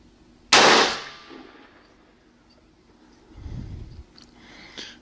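One sharp, loud rifle shot cracks out near the start, aimed at a target 100 yards away, then decays into quiet with a faint dull thump a few seconds later.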